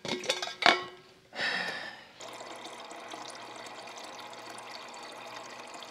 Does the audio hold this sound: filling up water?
yes